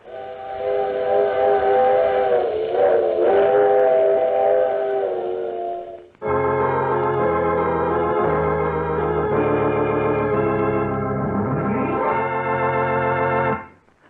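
A train sound effect in a radio drama: a loud steam train whistle sustains for several seconds, then a second, richer chord-like whistle blast holds steadily before cutting off, with rail rumble beneath and no talking.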